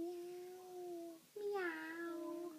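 A child imitates a cat, giving a drawn-out meow, a short pause, then a second rising-and-falling meow, faint and close.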